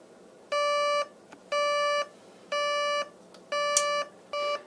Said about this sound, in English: The alarm's going to go off in 15 seconds.